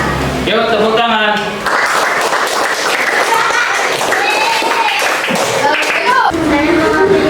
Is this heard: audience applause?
yes